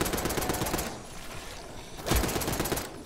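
Rapid automatic gunfire in the video game Call of Duty Black Ops 6, loud bursts with a pause in the middle before the firing starts again.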